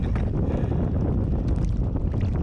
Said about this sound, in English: it is now raining and very windy.